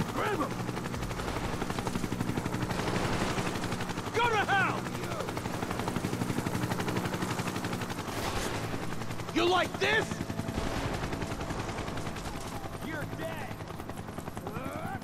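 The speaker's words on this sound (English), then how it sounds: "You can hear a helicopter" A helicopter drones beneath scattered gunfire in the Final Fantasy VII Rebirth video game, inside Hojo's lab in the Hall of Resurrection, with dense game sound throughout and occasional louder bursts.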